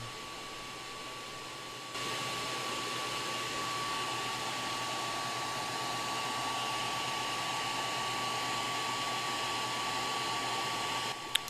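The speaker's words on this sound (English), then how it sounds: "Now here I'm just turning up the air assist because I'm cutting." Air assist on an Atomstack X20 Pro laser engraver, turned up while cutting 2 mm basswood: a steady, close airflow hiss that steps up in level after a couple of seconds and then holds evenly, with a faint constant tone and no talking.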